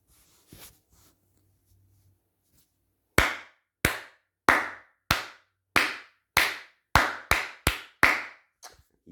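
Sharp hand claps sound in a quiet room to trigger a sound detector module, about a dozen of them in an uneven rhythm that speeds up toward the end, after a few faint bumps.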